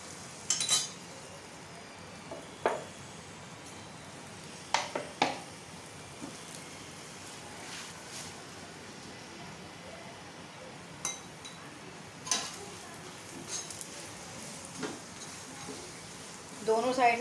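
Egg paratha fries in ghee on a pan with a soft, steady rain-like sizzle, broken by scattered metallic clinks of a utensil, while someone talks over it.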